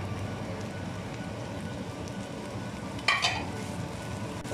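Chicken pieces sizzling and frying with lightly golden onions in a pan, a steady hiss throughout with a brief louder crackle burst near the end.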